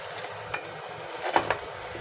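A spoon stirs a potato, soya chunk and black-eyed pea curry with tomato in a pan, making soft scraping and a few light knocks over a faint sizzle, close by and without talk.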